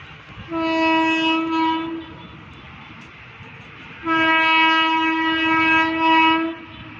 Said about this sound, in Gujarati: જો તમને રેલગાડી પણ બતાવી દઈએ